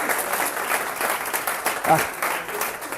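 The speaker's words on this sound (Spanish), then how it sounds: "Ahora, un aplauso." Applause from students in a university classroom, a moderate wash of clapping from a room of people at medium distance, steady with a faint voice briefly cutting through.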